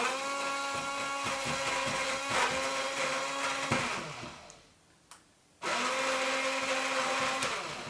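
A small cordless blender whirs steadily as it purees carrots for carrot soap. It runs close and loud, winds down and stops, then starts up again after a short pause.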